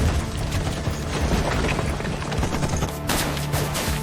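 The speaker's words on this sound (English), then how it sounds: "The Americans were stopped in their tracks by a wave of German machine gun fire." Dense German machine gun fire in a battle scene, a steady roar of rapid shots and blasts filling the whole clip at constant loudness, with no voices.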